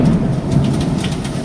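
Heavy rain pours in a dense, steady roar with a low thunder rumble beneath, close and loud throughout the brief stretch.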